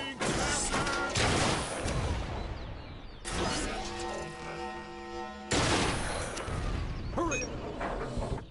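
Gunfire and explosions from the video game Toy Soldiers: War Chest, loud bursts broken by a charging mechanical hum in the middle, then another dense volley of blasts.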